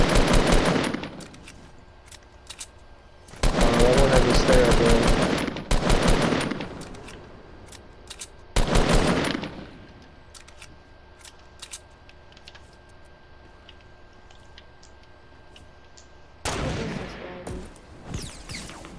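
Loud bursts of automatic gunfire in the video game Fortnite come in several long, rapid volleys separated by quieter gaps, with a final burst near the end and no speech over the shots.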